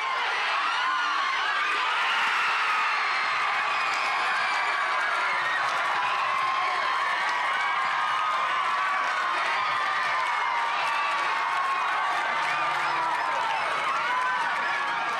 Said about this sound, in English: This was the crowd's reaction when the Matildas got their first goal of the night.